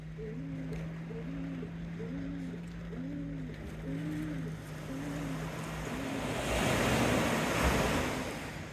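Calm sea washes against the seawall on the Teignmouth seafront, a steady surf hiss that swells louder toward the end, with wind rumble and a faint repeating chirping tone underneath.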